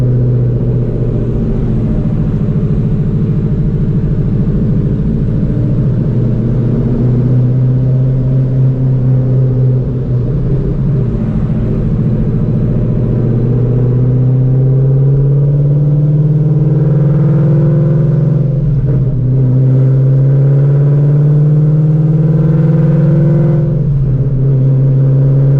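A Shelby GT350 engine running at a steady high idle, a loud continuous low rumble with a slight pitch rise partway through, heard alone without talk.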